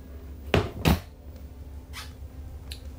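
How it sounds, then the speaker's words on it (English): A hinged storage lid behind the stretcher CPR seatback inside an ambulance is lifted, swung out and lowered, giving two loud close thuds followed by a lighter knock and a faint click. "Lift up, out, and down. This allows you to get into the cabinet and access your equipment a lot easier"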